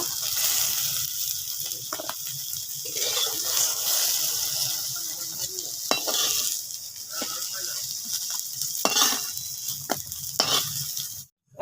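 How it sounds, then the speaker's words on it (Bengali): Green plantain fries in hot oil, a continuous bright sizzle with a few clinks and stirring scrapes, fairly close, cutting off abruptly at the end. "কাঁচকলাটা ভাজা হয়ে গেছে, আমি তুলে নেব।"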